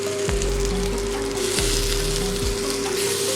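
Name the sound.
chopped ripe tomatoes added to sizzling pan with boiled green tomatoes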